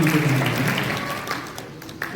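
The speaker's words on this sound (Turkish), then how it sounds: "Hadi damat bey için de bir alkış gelsin." Guests clap for the groom at a staged wedding ceremony in a hotel, a short burst of applause that is loud at first and fades quickly.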